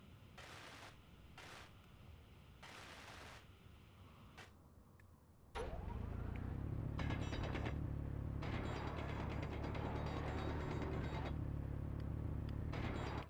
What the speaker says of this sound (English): I'm gonna have to weld this one.